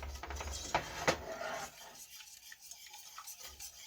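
A whisk scrapes and stirs keto caramel in a pan on a medium-low stovetop, with rough, close scratching and a few sharp clinks in the first couple of seconds, then the sound fades to a faint hiss.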